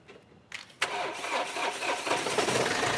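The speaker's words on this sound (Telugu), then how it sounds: "సింగిల్ సెల్ఫ్లో స్టార్ట్ అయింది సార్." A 2017 Mahindra TUV300 T8 with a 1.5 diesel engine cranks briefly and catches on the first try, then settles into a loud, close, rattling idle.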